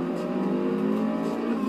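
A Subaru in Forza Horizon 2 accelerates with turbos spooling, a steady loud engine drone rising under load, close and continuous, with no voices.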